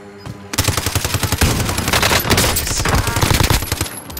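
Rapid automatic gunfire in the video game Call of Duty: Modern Warfare: dense bursts of loud, close shots begin after a short pause and continue almost without a break to the end.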